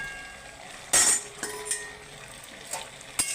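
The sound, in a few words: eggplant pieces added to the cooking pan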